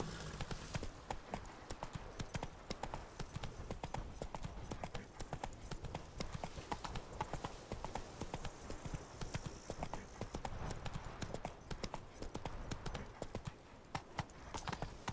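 Hooves of the horse Roach in The Witcher 3 clip-clop in a fast, continuous galloping rhythm throughout, loud and close, with a voice talking faintly underneath at times.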